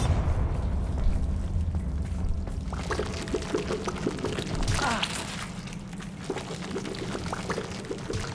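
A Bombarda spell blasts through a barrier in Hogwarts Legacy: a loud rushing, crumbling burst that breaks into scattered debris and rumbling impacts, with magical crackle trailing after.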